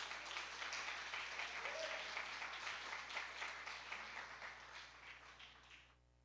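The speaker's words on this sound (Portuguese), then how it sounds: "Dê um forte aplauso ao Rei Jesus por isso." A church congregation at a worship service gives a steady wash of applause, many hands clapping at a distance, then fading away at the end.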